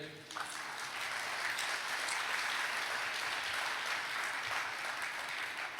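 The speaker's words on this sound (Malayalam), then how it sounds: "ഒന്ന് കൈയടിച്ചേ" A church congregation claps together during a sermon on grief, a broad continuous wash of many hands that swells briefly and holds steady, fairly close, without speech on top.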